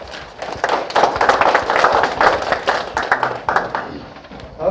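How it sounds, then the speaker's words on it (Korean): Residents applaud at a township meeting on a town-centre revitalisation project, brisk clapping from a modest crowd that swells and then eases off over a few seconds, heard fairly close with no speech over it. "앞으로 서성면의 발전을 위해서 뛰어달라는 말씀 의미로 박수를 좀 부탁드리겠습니다"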